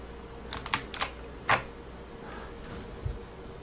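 Keys clack on a VAVA Chroma mechanical keyboard, a quick cluster of sharp clicks followed by a lone keystroke and a couple of fainter taps, close and alone.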